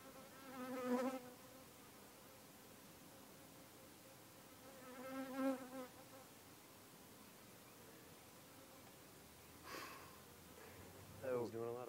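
Honey bees buzz softly and steadily during a beehive inspection outdoors, with close buzzing faintly under intermittent conversation.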